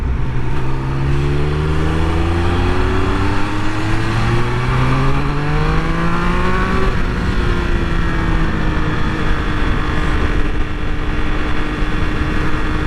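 A 2021 Triumph Speed Triple 1200 RS sport motorcycle revs up hard, its pitch climbing steadily through the gears, loud and continuous with no one speaking.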